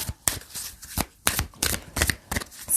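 A deck of tarot cards is shuffled by hand in quick bursts, crisp riffling swishes and papery slaps repeating about eight times close to the microphone, with no talking.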